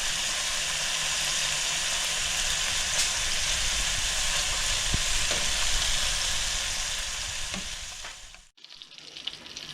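Filipino longganisa sausages sizzle and fry in their own rendered oil in a pan, a loud, dense, continuous crackle that holds steady. It breaks off sharply near the end and then resumes.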